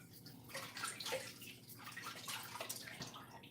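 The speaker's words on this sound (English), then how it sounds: "Let me just wash my hands." Running tap water splashes steadily as hands are washed under it in a home kitchen during baking, a continuous close wash with small gurgles and drips throughout.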